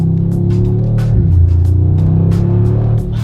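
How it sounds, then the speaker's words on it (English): Deep engine note of a 2019 Mercedes G63 steps down through quick gear changes on its 9-speed transmission, loud and close, with a brief rev blip midway and a steady low drone. "Oh, those downshifts."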